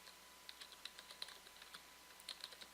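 Faint, quick keystrokes on a computer keyboard as search terms are typed in a quiet room, a light irregular patter of clicks with short bursts and pauses.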